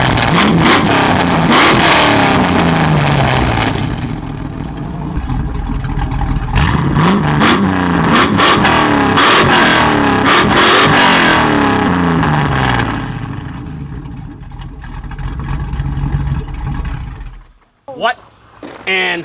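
A Volvo car's engine revs hard during a tire burnout, a loud roaring wail rising and falling in repeated sweeps close by, then cutting out near the end, with people talking and shouting over it.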